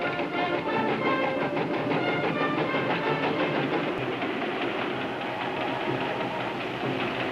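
A train rumbles steadily along the tracks, a dense, continuous roar with faint rhythmic clatter throughout, fairly close and loud.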